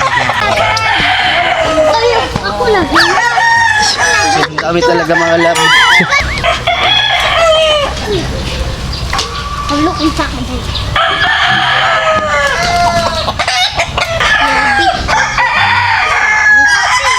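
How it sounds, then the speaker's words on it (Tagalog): Many chickens and roosters on a poultry farm crowing and clucking loudly and continuously, overlapping one another, with a voice talking over the flock. "Sobrang dami ng mga manok at malulusog."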